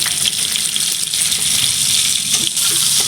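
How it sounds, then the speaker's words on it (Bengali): Whole garlic cloves hit hot oil in a wok, already seasoned with dried chilli and a bay leaf, and sizzle loudly and steadily throughout as a dense, crackling frying hiss with no talking. "আমি এখানে যে গোটা রসুনগুলো কেটে রেখেছিলাম সেগুলো দিয়ে দেবো"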